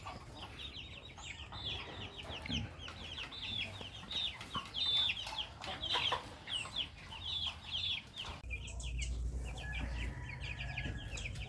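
Farm chickens clucking steadily, with repeated short calls close by and a faint rumble of wind or handling noise toward the end.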